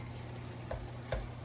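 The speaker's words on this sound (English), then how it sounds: "gonna make sure nothing's sticking." Taco filling being stirred in a hot pan, with a steady low sizzle throughout and two brief scraping clicks from the utensil against the pan.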